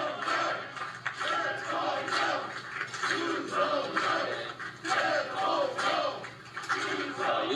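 A crowd in an election campaign room cheers and chants rhythmically as presidential candidate Yoon Suk-yeol enters late at night, voices rising and falling in waves close by and fairly loud.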